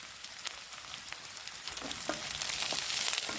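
Curry leaves spitting in hot oil for coriander rice, a soft crackling sizzle with scattered pops that swells slightly, heard alone without talk.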